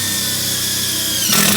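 Power drill driving a self-tapping screw through a ground eyelet inside a 2019 Nissan NV200 van, a loud close whirring drone that shifts pitch near the end as the screw seats.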